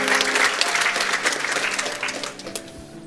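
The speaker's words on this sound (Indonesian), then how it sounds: "Silakan tepuk tangan." Congregation clapping during a church worship service, a burst of many hands applauding that starts loud and gradually thins out, with a sustained keyboard or organ note underneath.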